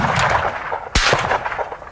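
A single sharp, loud report from a military weapon cuts through steady background noise midway through, a close, punchy shot with no talking.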